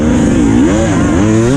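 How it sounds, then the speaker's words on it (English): A KTM 300 TPI two-stroke enduro motorcycle races along a beach course, its loud, close engine revving and wavering in pitch as the rider works the throttle. "I am riding the enduro bike, so I'm riding the 300 TPI enduro bike"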